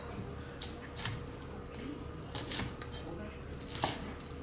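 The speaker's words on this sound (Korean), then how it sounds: "자, 재료를 이제 좀 썰어 볼 거예요. 자, 먼저 미나리." Water parsley (minari) is cut on a board for a shrimp and minari pancake, giving a few soft, scattered knife chops and crisp snips over faint background room noise.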